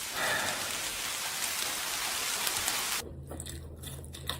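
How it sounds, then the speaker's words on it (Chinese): Steady rain sound played as white noise, a dense even hiss of falling drops for about three seconds before cutting to a quieter room. "放个下雨的声音吧"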